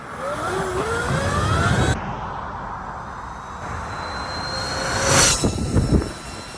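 Sur Ron electric stunt bike run at full throttle in mode 3 at 14 kilowatts, a rising electric motor whine with rushing wind noise, swelling louder near the end, no talk.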